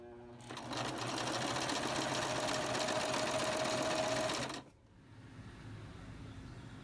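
A sewing machine runs a loose stitch in white thread along a fabric strip for a meditation cushion, giving one steady, close whirring run of about four seconds before it stops abruptly.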